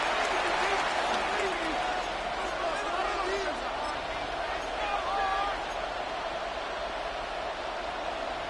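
A packed stadium crowd at a Saints football game roars steadily and loudly near the red zone, a dense wash of cheering that never lets up, while a commentator talks over it.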